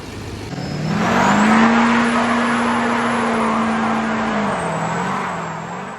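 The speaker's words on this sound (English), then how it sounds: "This is my 2008 Duramax twin turbo, built trans" A lowered 2008 Duramax twin-turbo diesel pickup on 20x12 wheels, fitted with an MPI twin turbo kit and a built transmission, drives past with a loud, sustained engine roar and turbo whine that swells after a second and eases slightly toward the end.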